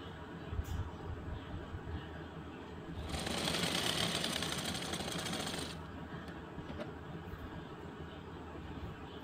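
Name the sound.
sewing machine stitching blouse pieces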